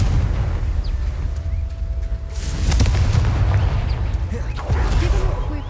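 Confringo blasting spell explodes in the Hogwarts Legacy video game. A loud booming burst lands around the midpoint over a dense rumbling game backdrop, followed by a smaller crack later.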